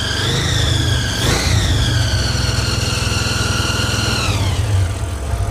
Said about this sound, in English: Idling kind of high.